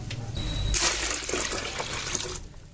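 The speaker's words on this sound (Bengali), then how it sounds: "এর সাথে আমি 1 লিটার জল দিলাম, 2 লিটার," Water poured from a container into liquid fertilizer to mix a feed for chrysanthemum plants, a steady splashing fill sounding close and continuous for a couple of seconds, with no talk over it.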